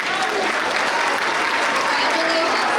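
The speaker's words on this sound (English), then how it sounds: "One more round of applause." Steady, continuous applause from an audience at a middle school awards ceremony, dense clapping filling the whole stretch at an even loudness with no break.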